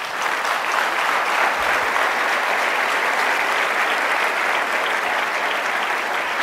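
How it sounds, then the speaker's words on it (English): An audience at a motivational success talk breaks into loud, sustained applause, a dense, even wash of clapping that carries on without a break and with no talk over it. "Give yourselves a round of applause."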